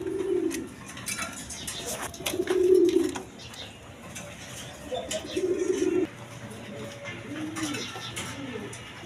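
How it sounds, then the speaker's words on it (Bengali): Red-coloured pigeons coo in low, throaty bursts, repeating every couple of seconds over a faint, steady background hum. "দেখেন ভালো জাতের কবুতর"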